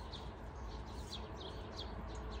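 A small bird chirps in a village garden: a string of short, high, faint calls repeating every few tenths of a second over a steady outdoor hiss.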